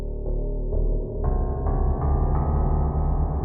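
Sneaky Key one-shot sample played in the Mimic sampler in Reason 12: a sequence of sustained, harmonically rich synth-key chords changing every half second or so, full and steady without pauses.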